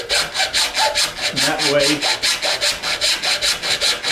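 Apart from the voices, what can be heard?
hand saw cutting 4-inch PVC pipe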